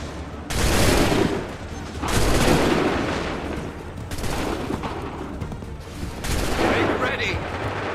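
Musket volleys fired by lines of soldiers in Assassin's Creed 3, four loud crackling bursts of massed gunfire each rolling on for about a second, with shouted commands between them.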